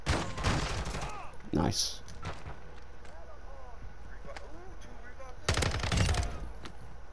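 Gunfire in a first-person shooter video game comes in rapid automatic bursts, loud at the start and again near the end, with quieter scattered shots between and a player's voice briefly speaking.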